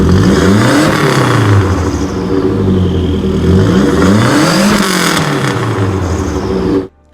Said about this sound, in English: here's a clip of a Saab 900 making some noise